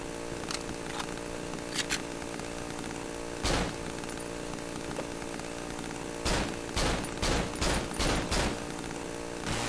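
Chainsaw in the Cry of Fear horror video game, wielded by a hostile neighbour, with loud bursts of revving and cutting noise breaking out among sustained game background sound, clustering toward the end.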